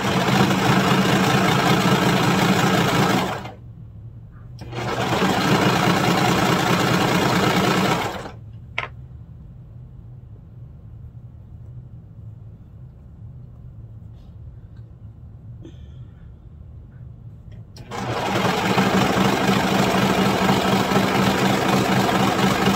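A sewing machine stitches pajama pant legs in two loud, steady bursts of rapid whirring, separated by a pause. A long quiet stretch follows with faint handling noises, and then the machine starts running again.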